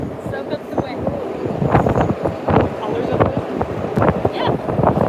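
Gusty wind batters a phone microphone outdoors at Hollywood Studios, a loud, uneven rumbling buffet that swells and dips throughout, with bits of nearby voices mixed in.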